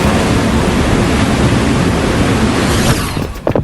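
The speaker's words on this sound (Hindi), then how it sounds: "पानी लीक हो रहा है। सब लोग जल्दी बाहर निकलें, पाइप फट गए।" Water gushing from burst pipes, a loud continuous rushing roar that tapers off in the final moments.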